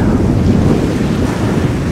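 Steady outdoor roar of wind buffeting the microphone on a Scottish Atlantic island, with rain hissing underneath, continuous and fairly loud throughout.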